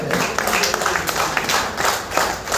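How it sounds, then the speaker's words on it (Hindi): Auditorium audience at a book launch in Agra breaking into steady, dense applause that fills the room at a constant level, with scattered sharper claps standing out. "एक बार सभागार से निवेदन, जोरदार तालियों से उनका हार्दिक स्वागत है।"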